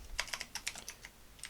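Quick, light clicks of a computer keyboard as code is typed, about a dozen crisp keystrokes in an uneven burst, close and fairly quiet with no talking.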